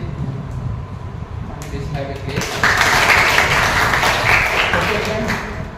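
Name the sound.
audience applause for two participants at a farewell party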